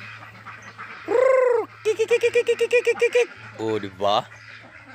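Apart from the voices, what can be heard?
Peking duck quacking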